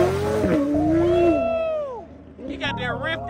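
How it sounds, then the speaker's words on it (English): Supercar fitted with a ripped exhaust, revving at a car meet: a loud, rising and falling engine wail under chatter from a nearby crowd, then a second burst of raspy revs near the end. "He got that ripped exhaust on that sounding immaculate."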